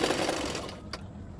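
A sewing machine stitches along the edge of a blouse belt with a fast, close whirring rattle that slows and stops, followed by a brief click.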